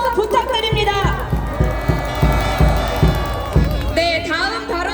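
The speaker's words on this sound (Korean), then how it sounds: "박동기 의원님께 다시 한번 큰 박수와 함성 부탁드립니다" A large outdoor political rally crowd in front of a constitutional court claps and shouts, with rhythmic clapping bursts and loud cheers mixed with voices calling out, close and energetic.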